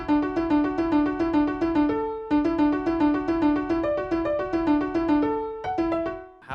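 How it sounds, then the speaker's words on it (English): A piano plays a rolling triplet pattern for a beat, with bright repeated notes in a steady, fast, even pulse that moves through changing pitches, loud and close with no voices. "Starting off, I have the piano triplet pattern,"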